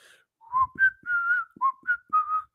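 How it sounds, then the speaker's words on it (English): A person whistles a short tune alone: six clear, sustained notes rising and falling in pitch with brief pauses between phrases, close and fairly loud. "We're gonna whistle."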